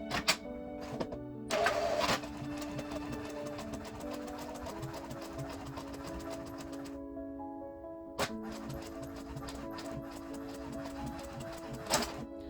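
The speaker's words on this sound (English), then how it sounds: "in here I have selected my printer as the option and start print" A printer whirs and clatters steadily for several seconds as it prints onto paper, with sharp mechanical bursts at the start, midway and near the end, close and fairly quiet.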